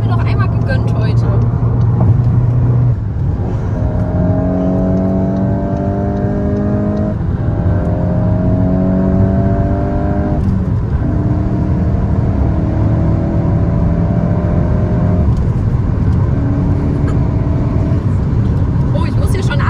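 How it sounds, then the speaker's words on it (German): A VW Golf 8 GTI accelerating hard from inside the cabin, engine note rising through several gear changes with brief dips between shifts, loud and steady, while someone speaks over it. "Jetzt will ich aber einmal heute hier Gas geben können"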